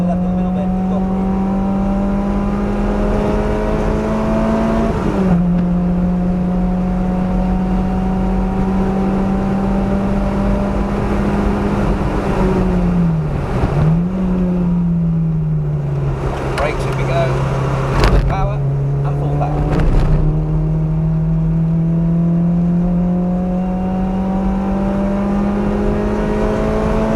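A race car with a 2ZZ engine runs at full power around the Donington track, a loud steady engine drone that dips and rises briefly through gear changes and corners, with a driving coach talking over it.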